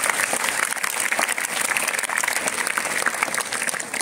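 A school gathering claps for children who took part in a speech competition, loud close crowded applause that runs continuously at an even pace from start to finish, with no talking.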